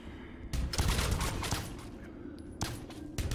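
Video game gunfire from Bionic Commando: bursts of rapid shots crackle over a steady backdrop of game music and effects, with sharp volleys around the middle and later onsets near the end.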